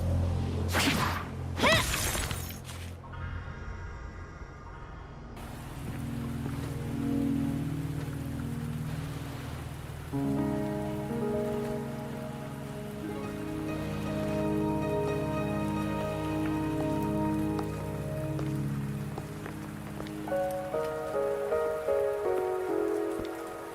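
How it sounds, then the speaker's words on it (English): Rain falling in a video game, a steady soft patter under a melodic game music score, with a few sharp splashy bursts near the start and no talking. "Are you trapped here by the rain?"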